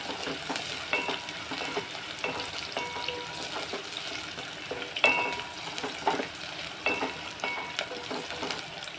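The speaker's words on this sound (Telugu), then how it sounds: "ఇప్పుడు ఇవి కొన్ని తాళింపులు వేసేస్తున్నాం" Spices and onions sizzle and fry steadily in a hot pan, tempering for a mango dal. The hiss is continuous and close, with occasional crackles and a faint stir.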